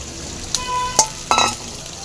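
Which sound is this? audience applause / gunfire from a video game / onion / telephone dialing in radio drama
onion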